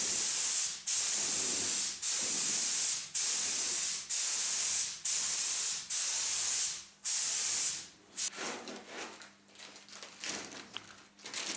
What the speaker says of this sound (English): It took more than an hour to spray the white areas on the doors on the bottom